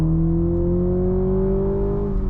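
Toyota Supra GR with the 2.0-litre four-cylinder engine, its exhaust holding a steady, loud drone with strong harmonics and a slight rise in pitch near the end.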